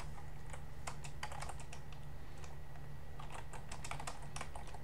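Fingers tap out code on a computer keyboard in quick irregular bursts of clicks, close and fairly soft, with brief pauses between runs of keystrokes and no talking.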